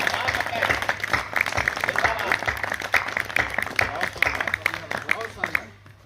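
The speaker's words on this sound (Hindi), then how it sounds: "एक बार सब मिलके तालियां बजाएं।" An audience at a Hindi poetry recital claps in a dense, rhythmic burst that holds for several seconds before thinning and fading out, with crowd murmur and voices mixed in.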